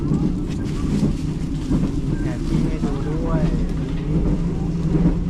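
Low rumble and rolling rail noise inside a new luxury CNR express train running near Thung Song Junction in Thailand, steady and continuous throughout, with a person speaking over it.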